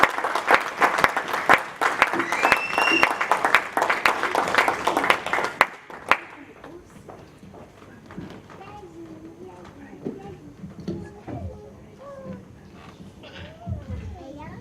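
A church congregation applauding and cheering to welcome a preacher at a thanksgiving service, dense close clapping for several seconds that cuts off abruptly, followed by talk over a quieter room.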